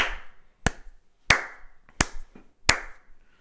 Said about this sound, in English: What the fuck are those claps?